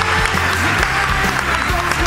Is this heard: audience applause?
yes